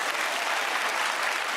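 A studio audience at a comedy panel show gives a dense, loud round of applause that carries on steadily throughout, with no talking.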